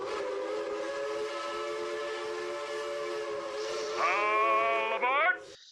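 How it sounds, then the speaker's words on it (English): A train horn sound effect plays as a long, steady multi-tone blast, loud and sustained, rising into a higher sliding chord near the end before cutting off abruptly. "We're gonna blow the hype train horn for him."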